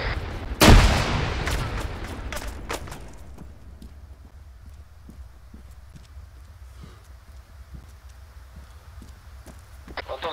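A loud grenade blast bursts near the start of an Arma 3 firefight in an underground metro tunnel, followed by a scatter of sharp gunshots that thin out into sparse distant pops.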